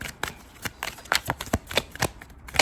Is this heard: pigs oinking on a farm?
no